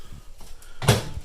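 A microwave door swings shut with one firm, close thud and latch click, preceded by faint handling noises.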